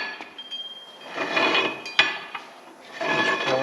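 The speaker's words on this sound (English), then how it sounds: "just pull that axle right out" An axle is drawn out of an Oldsmobile 442 rear end, giving rough metallic scraping and rubbing in a few swelling bursts with a sharp clunk midway, close and fairly loud, with no talking.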